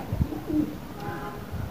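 A sick pigeon on a rooftop gives soft, low cooing in two or three brief throaty pulses, close by and moderately loud over faint background noise.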